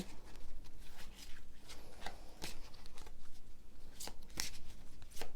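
Tarot cards are shuffled and drawn by hand, a close, quiet run of papery riffles, slides and soft flicks with a few sharper snaps, alone without talk.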